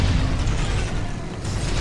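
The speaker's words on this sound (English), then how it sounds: "Why is this one tank not shooting this guy? And now it's starting to shoot." A tank fires shells in the strategy game Dawn of War - Soulstorm with the Unification mod, a continuous loud rumble of booming blasts and mechanical clatter from the battle, without any voices.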